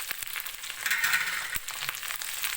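Tomato rice paste with salt and chili powder fries in oil, giving a soft, steady hiss of sizzling broken by a few faint clicks and scrapes.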